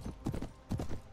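Horse hooves clip-clop in Mount & Blade Warband Viking Conquest as a ridden horse moves near a village, two close, moderately loud double-beat hoof strikes heard alone.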